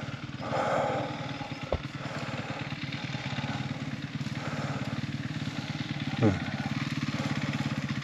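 A dirt bike engine idles and putters steadily at the Gatton trails, a continuous mid-pitched rumble with a short rev near the start and a sharp mechanical clack partway through.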